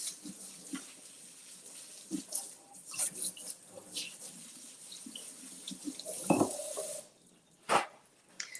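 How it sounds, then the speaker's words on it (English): Fresh salsa produce, tomatoes, onion, peppers and lemon, is rinsed under a running kitchen faucet, a steady close water stream with splashes, clatter and a few louder bursts as items move under the flow. "Let's rinse this off."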